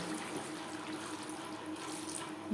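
Water pours into a pan of pointed gourd curry, the gourd already fried down with spices, making a steady, close splashing rush that runs unbroken for the whole stretch with no talking.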